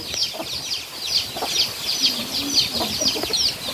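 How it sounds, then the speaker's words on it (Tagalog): Chickens on a farm clucking repeatedly in short bursts, several birds close by with a steady, busy rhythm, and a low voice faintly in the background. "Sa mga may hilig sa manok."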